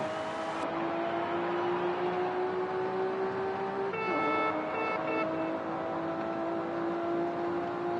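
A 1998 Toyota Supra RZ drives in Forza Horizon 5, a steady sustained engine drone at speed with a brief rising whine as it shifts gear partway through, alone without talk.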